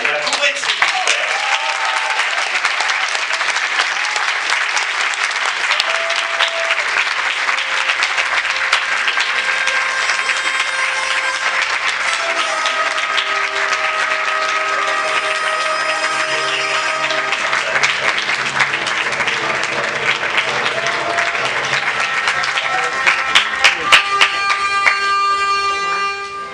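Festival closing-ceremony audience applauding the jury, sustained clapping throughout with music tones running along under it, moderately loud and steady for nearly half a minute.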